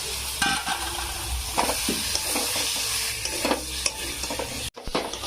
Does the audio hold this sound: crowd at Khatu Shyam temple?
no